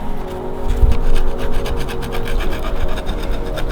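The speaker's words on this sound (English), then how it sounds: "I'm just cleaning off these surfaces because we can get to them" Brake caliper surfaces are scrubbed clean during a brake pad and rotor replacement with a Powerstop Z23 kit, heard as steady, close, rhythmic rasping strokes in quick succession.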